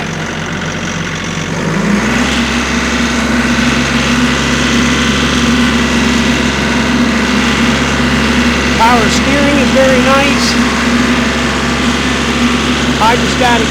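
A 39 horsepower 2017 Kioti CK4010 compact tractor engine runs steadily and loudly nearby with a deep low hum, shifting pitch slightly early on, with faint squeaks in the background.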